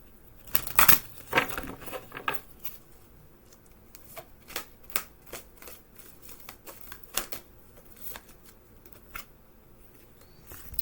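Someone shuffles a deck of cards and pulls one out for a Lakota-style reading. A few brisk riffling bursts come first, then lighter, scattered flicks and taps of card handling, close and fairly quiet, with no talk.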